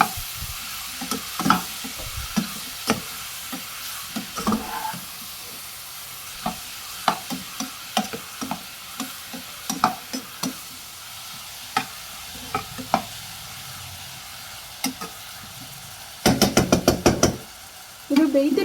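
Mushrooms frying in a pan for a sandwich filling, stirred with a utensil: steady soft sizzle under irregular scraping and tapping strokes, close up, with a denser burst of clattering stirring near the end.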